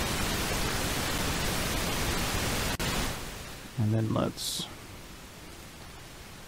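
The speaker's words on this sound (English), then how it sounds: "where we hook up pink noise" Pink noise from a Moog Model 15 synthesizer app hisses as a steady broadband wash for about three seconds, then cuts off, followed by a brief spoken phrase and faint quiet.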